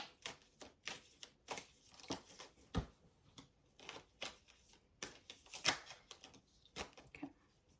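Lenormand cards shuffled and handled in a quiet room, a run of soft, quick papery flicks and riffles with no talking.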